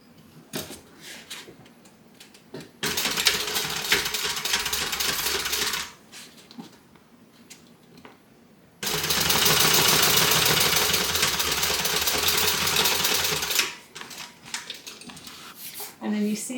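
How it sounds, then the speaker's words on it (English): A sewing machine stitches across the side piece of a cotton tote bag in two sustained runs, one of about three seconds and one of about five, with quiet speech in the pauses between them. "just stitched right across to the other side"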